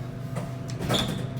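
A vintage Otis traction elevator door slides open in a Chicago apartment building, a brief rumbling slide with a soft mechanical clunk, close and moderately loud against steady machine hum.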